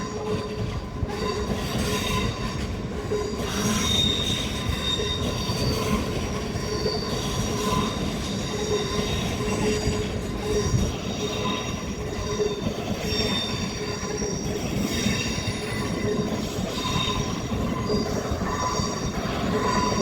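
A train rolls past steadily at night in a Zurich rail yard, with loud, sustained wheel squeals ringing over a continuous rumble and clatter, close by and lasting throughout.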